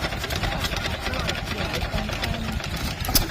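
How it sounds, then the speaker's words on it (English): A vintage stationary engine putters steadily with a rhythmic knocking beat at an outdoor rally near Gloucester, while people talk in the background. "Stationary engine here at Little Cambridge."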